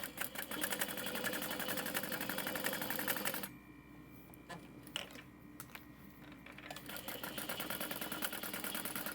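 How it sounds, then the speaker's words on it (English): A sewing machine stitches a tote bag panel in a fast, even whir for about three seconds, stops briefly with a few soft clicks, then starts stitching again toward the end. "And then I'm going to sew it in place."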